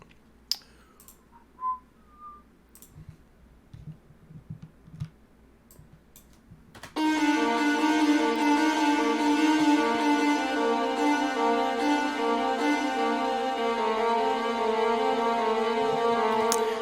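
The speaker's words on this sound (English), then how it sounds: "It's just an arpeggio that follows some of the notes of the chord progression." A bright synth arpeggio enters suddenly after quiet clicks and a faint whistle, looping steady rising notes loudly over a sustained chord.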